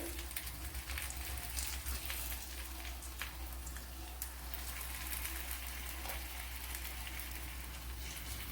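Kerala-style evening snacks fry in hot oil with a steady, even sizzle that bubbles and crackles close by throughout, no voices over it.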